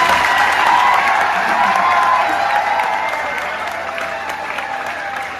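Large crowd at a political youth gathering breaking into steady applause with some cheering, a dense wash of clapping that holds strong and then slowly fades, with scattered voices mixed in.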